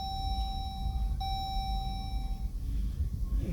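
A car's seatbelt warning chime sounds as a steady, clear electronic beep tone, held then cut off, over low road and engine rumble inside the vehicle during a safari drive.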